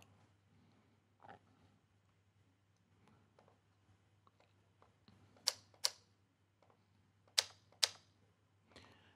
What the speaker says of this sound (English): And then here we have some typewriter sounds.